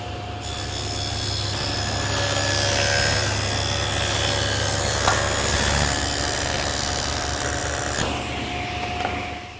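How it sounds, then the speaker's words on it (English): A table saw fitted with a dado head cuts a groove between two mortises in a wooden blanket chest leg, a steady, loud whirring cut with a gritty rasp of wood that holds for the whole stretch. "take our legs and run a groove between the two mortises so that it'll accept our panels"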